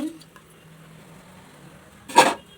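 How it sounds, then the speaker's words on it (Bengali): Washed potatoes drop into a pot on a lit gas stove, giving one brief, loud clatter and splash near the end, after a quiet stretch with a faint low hum. "এবার এই যে আলুগুলি ধুয়ে রেখেছি, তো সবার প্রথমে আলুগুলি দিয়ে দিলাম।"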